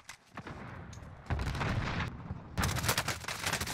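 Gunfire in Call of Duty Warzone (Modern Warfare), with several sharp, loud shots and booming bursts coming in quick clusters, the heaviest volley near the end.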